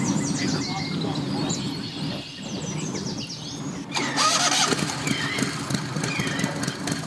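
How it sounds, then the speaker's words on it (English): A mud boat engine starting at a busy boat ramp, the motor catching and rising into a louder steady run partway through, with birds chirping and voices in the background. "Got the mud boat started."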